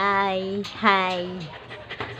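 Pet dog Lainey pants in quick, breathy bursts close by, partly masked by a voice talking over it.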